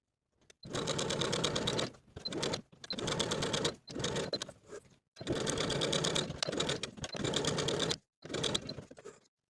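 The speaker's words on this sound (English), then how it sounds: "I'm going to sew basting stitches along the top parts of the sleeves, using the longest stitch on my machine" A sewing machine runs long basting stitches along the tops of dress sleeves in seven or eight bursts of rapid whirring, each a second or two long, separated by short silent pauses.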